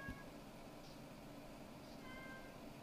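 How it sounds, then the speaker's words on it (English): A cat meows faintly once or twice at a distance over a steady low room hum, with no talking. "Ah, the cat snuck out."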